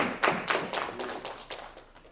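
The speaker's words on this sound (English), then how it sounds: "So a round of applause to you guys for bringing everyone together week after week." A short, scattered round of applause from an audience at a university entrepreneurship meeting, a handful of separate claps near and loose rather than a sustained ovation.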